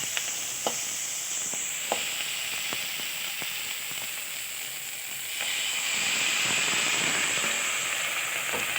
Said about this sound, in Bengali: ভেজে রাখা মাছ আর সাথে কিছু চিংড়ি মাছ ভেজে রেখেছিলাম, সেগুলোও দিয়ে একসাথে কষিয়ে নিচ্ছি।